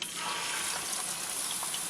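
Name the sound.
dribble of water sizzling in hot oil in a pan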